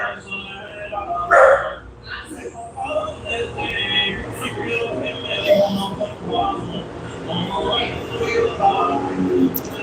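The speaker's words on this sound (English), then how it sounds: "Sorry about the dog barking in the background." A dog barks repeatedly in the background amid a busy scene with people talking, the barks loud and irregular.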